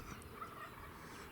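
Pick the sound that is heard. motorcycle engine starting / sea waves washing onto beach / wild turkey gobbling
wild turkey gobbling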